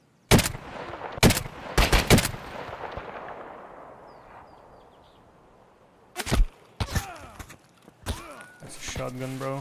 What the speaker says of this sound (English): Shotgun, bro.